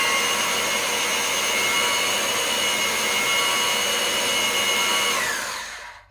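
An Anbull electric hoist runs chain through its mechanism with a steady, loud whirring motor whine that holds evenly for several seconds, then winds down and stops. The motor is heard alone.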